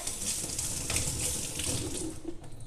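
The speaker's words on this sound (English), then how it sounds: "I put it into a fine mesh strainer. I'm gonna go ahead and rinse it." Whole pecans rinsed in a fine mesh strainer under a running kitchen tap give a steady close rush and splash of water, continuous with slight variations, and no one talks.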